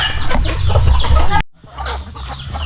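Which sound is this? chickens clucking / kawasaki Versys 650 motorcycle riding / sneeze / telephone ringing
chickens clucking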